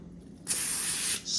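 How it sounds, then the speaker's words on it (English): Cooking spray hisses onto foil in a single close burst of about two thirds of a second, followed by a short fainter puff. "Spray it."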